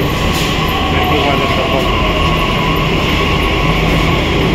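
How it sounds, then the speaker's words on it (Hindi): Delhi Metro train pulling into a crowded station: a loud, steady mechanical rumble and rail hum fills the whole stretch, with crowd murmur underneath. "आगे मेट्रो, ये देखो मेट्रो आ गई"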